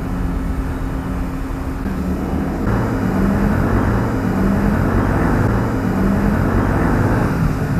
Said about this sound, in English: And there's some noisy motorbikes going across around the harbour.